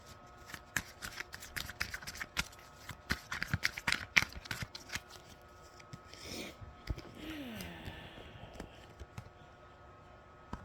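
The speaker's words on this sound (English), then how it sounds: "As you can see, I'm shuffling the cards." Tarot cards being shuffled by hand, close and quiet: rapid papery riffles and soft taps in bursts, then slower sliding and rustling of the deck near the end.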